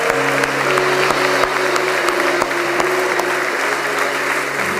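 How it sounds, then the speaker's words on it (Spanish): A church congregation claps together during a Sunday morning service, steady and full applause with a low hum of organ or keyboard tones sustained underneath. "Le damos un fuerte aplauso al Señor todos juntos"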